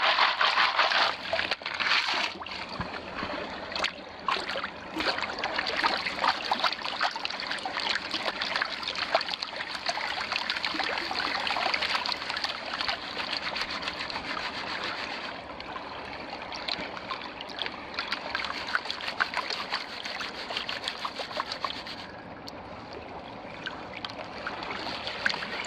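Gold pan water swirls and sloshes in a stream over bedrock, a continuous close splashing and trickling wash that runs steadily throughout with no talking.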